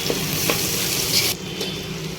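Tomatoes frying in a pan for a taro curry: a dense, even sizzle that drops suddenly in brightness partway through, with no talking.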